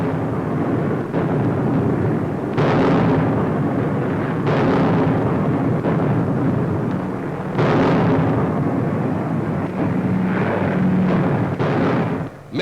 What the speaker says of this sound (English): For now they're over the enemy coast, driving into a flak-filled sky.